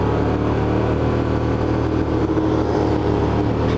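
Several motorcycles idle together before a group ride to Serra Negra, including a Yamaha Phaser 600, giving a steady, loud, dense engine rumble throughout with no talking.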